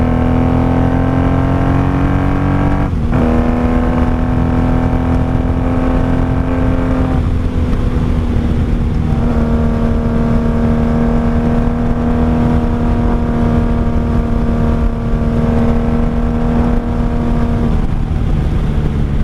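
A 1995 Honda Magna VF750C motorcycle engine, with a jetting issue, idles steadily and close for about twenty seconds, a continuous low drone with brief pitch shifts around three and seven seconds and no voices.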